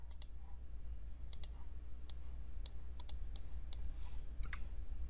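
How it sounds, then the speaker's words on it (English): A computer mouse clicks sharply several times in an irregular run of single and double clicks, close and crisp over a low steady hum from the computer. "I'm going to click on new query"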